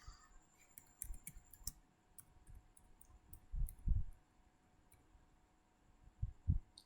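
Keyboard keys clatter in short irregular bursts while a text prompt is typed on a computer, with soft faint clicks and a few louder thumps, alone with no voice.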